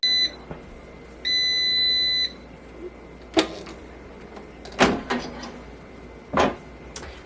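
An air fryer finishes its timer with two long steady electronic beeps, followed by a few sharp clicks and clunks nearby, over a low background hum.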